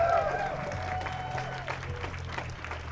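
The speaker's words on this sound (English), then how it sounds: "Give yourselves a round of applause." Outdoor migrant justice rally crowd applauds and cheers, a moderate patter of clapping mixed with shouts and some talking, fading slightly toward the end.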